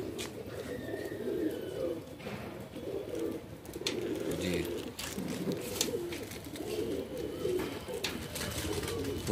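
Medium-sized Madrasi pigeons coo again and again at close range, soft throaty calls layered over one another with light rustling and shuffling in between.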